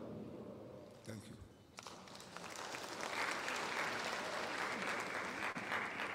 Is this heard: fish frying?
no